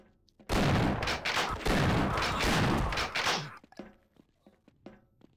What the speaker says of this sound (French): Ah, fusil à pompe.